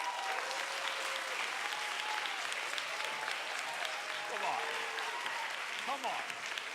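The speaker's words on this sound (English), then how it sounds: "Please give a big applause, a great welcome to the Global Executive Director of Equality Now" Audience applause greeting a speaker at a 2016 equality gala, a steady wash of many hands clapping throughout with some cheering voices rising over it near the end.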